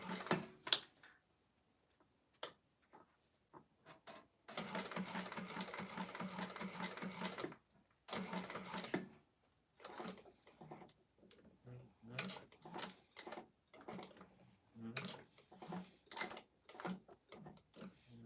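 A sewing machine hand-cranked while stitching the corners of a leather clutch wallet, with slow stitch runs and short bursts of fast mechanical ticking and clatter, separated by pauses, fairly quiet and close.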